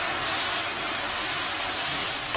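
Cream is poured slowly into hot caramel, setting off a loud, steady sizzling hiss that fills the whole moment without pause, close and unbroken, with no voices.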